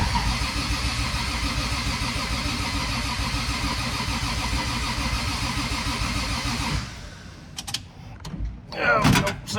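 A Lexus IS300 with a turbo 2JZ-GE engine cranks steadily for several seconds without catching for lack of fuel, then stops, followed by a few clicks and clunks and brief rustling.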